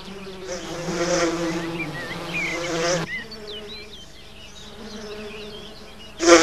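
Male bees of a single species buzz steadily close by, a continuous droning hum that rises and falls as insects move around, with a louder buzz passing near at the end.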